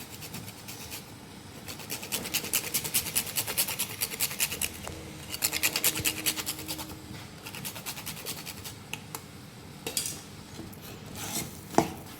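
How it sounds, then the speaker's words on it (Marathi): Nutmeg grated for puran poli, a steady run of fast rasping scrapes in bursts, close and fairly loud, with brief pauses and a few sharper knocks near the end. "आणि थोडंसं जायफळ खिचून घेऊया"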